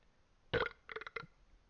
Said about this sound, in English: Maybe stop burping as well.